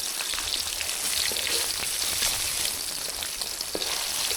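Pieces of fish fry in hot oil with a dense, steady sizzle and crackle that holds evenly throughout, close up, with no talking.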